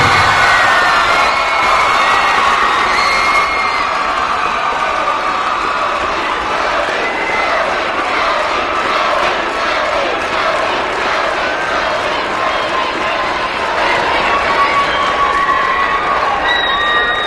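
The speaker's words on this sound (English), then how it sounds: "How about a big round of applause once again, our winner, Shakobia Barbie" A large arena crowd at a girls' high school basketball championship cheers and claps for a Miss Basketball award winner, a loud, sustained roar with shouts and whistles and talk mixed in.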